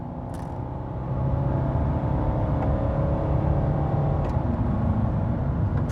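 A Mercedes W211 E-Class with a 2.2 liter inline-4 accelerates hard from inside the cabin, engine drone swelling after the first second and holding a steady, loud pull, with no talking.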